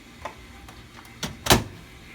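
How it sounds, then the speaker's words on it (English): A microwave oven door swings shut after a door switch repair, giving a soft click early on, a couple of light taps, then a firm latching thud near the end, close and fairly quiet with no talking. "Now if we close the door"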